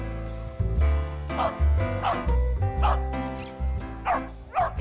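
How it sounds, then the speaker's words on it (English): A trained dog barks repeatedly after finding a squeaky rubber ball, about six loud, close yapping barks at a steady rhythm, with no talking over them. "She barks to show she's found the ball."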